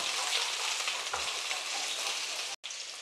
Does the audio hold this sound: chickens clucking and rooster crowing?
no